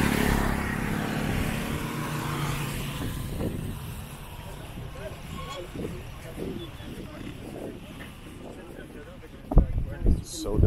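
A vehicle on a roadside in Petén, Guatemala sweeps past with a broad, fading whoosh, leaving quieter open-air traffic ambience and a brief louder burst near the end.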